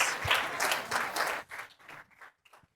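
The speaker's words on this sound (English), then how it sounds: "Give Demian a big round of applause." A short burst of applause from a small crowd at a corporate speaking showcase, tapering off into a few scattered claps.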